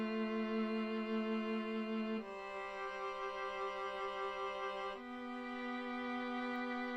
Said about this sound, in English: I've made the violin and the viola, and they're playing sort of complementary notes that make a chord together